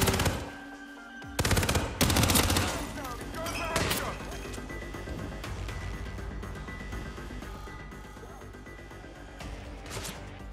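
Gunfire in the video game Hitman 3, a rapid burst of loud shots followed by scattered bangs and impacts that trail off under a continuous game soundscape, with a voice talking over it.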